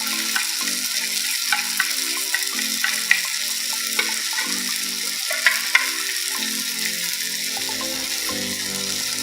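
Chicken stirred in a pan with chili powder, garam masala and turmeric over a lowered flame, a continuous frying sizzle with light scraping stir strokes.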